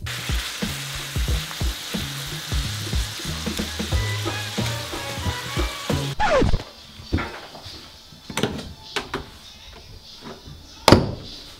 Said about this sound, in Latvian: Paralēli gaļas cepšanai mēs sākam pievienot papriku un burrito piedevu.